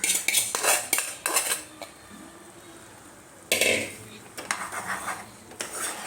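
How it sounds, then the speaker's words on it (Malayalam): A metal spoon scraping and clanking in a pot as boiled tapioca is mixed into squid curry, in close, uneven bursts of stirring with brief pauses and a quiet voice in between. "നല്ല കപ്പ വേവിച്ച് വെച്ച കപ്പ ഇതിലേക്ക് ഇട്ട് മിക്സ് ചെയ്യാം"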